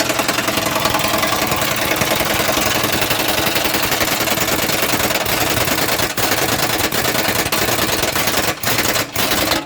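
An old car engine runs roughly and loudly, a steady rattling knock with a few brief stutters near the end.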